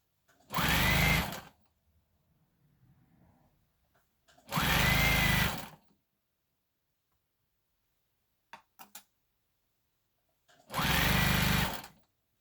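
A sewing machine stitches the hem of a sparkly prom dress being shortened, running in three loud steady bursts of about a second each, with quiet pauses and faint handling noises in between.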